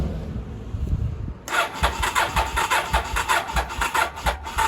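A 1982 Yamaha Maxim 750 motorcycle cranks briefly, then fires and settles into a close, loud, lumpy idle with a rhythmic pulsing beat and a thin high whine.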